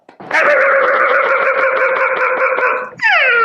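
A voice imitates a dog, producing a rapid run of rhythmic, pulsing yelps or barks for about three seconds, then a short whining cry, loud and close with no other sound.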